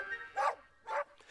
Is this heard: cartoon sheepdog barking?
yes